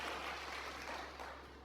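A church congregation claps during a sermon, a short burst of dense, even applause that sounds faint and distant and tapers slightly.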